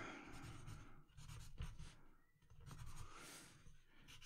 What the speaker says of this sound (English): I'm gonna draw a troll.